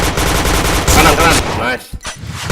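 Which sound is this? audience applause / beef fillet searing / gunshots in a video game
gunshots in a video game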